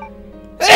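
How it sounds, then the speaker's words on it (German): A single sudden sneeze bursts out close to the microphone after a stretch of quiet room tone, from a German livestreamer playing Resident Evil: Code Veronica X; the burst is cut off at its loudest. "Ich muss, glaube ich, mal niesen."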